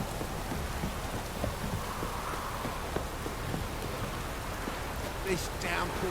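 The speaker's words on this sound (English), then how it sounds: "This downpour's a bastard" Heavy rain pours in the Witcher 3 video game, a dense continuous hiss of drops on the ground, steady and enveloping, with faint footsteps and a brief voice near the end.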